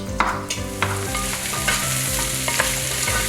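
Zucchini and other vegetables for a Spanish vegetable soup fry in a pot. A continuous sizzle fills the background while a spoon stirs with soft periodic scrapes and taps, close and fairly loud.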